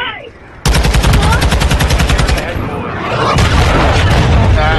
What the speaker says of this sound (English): Hostile cruise missile